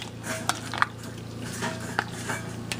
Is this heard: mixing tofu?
yes